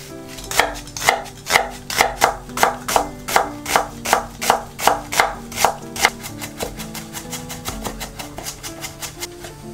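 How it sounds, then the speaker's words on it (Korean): A knife finely mincing onion and meat for tteokgalbi on a cutting board, a fast, even run of loud close chops that slows and thins out toward the end, with no voices. "양파와 고기는 잘게 다져서 양념을 섞어줄 겁니다."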